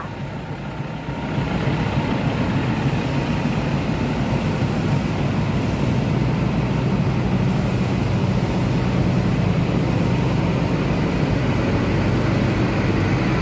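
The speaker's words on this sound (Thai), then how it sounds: "แล้วก็มี รถไฟเข้ามาจากบ้านคลองเลิกค่ะ ตอนนี้ สวนกันกับรถไฟดีเซลราง" A steady, low diesel rumble drones on for the whole stretch, a diesel railcar idling or rolling past at moderate distance at a station without a break.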